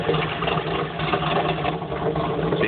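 A 1994 Chevrolet Camaro engine idles roughly, giving a continuous close, loud low drone with an uneven, churning texture and no other sounds.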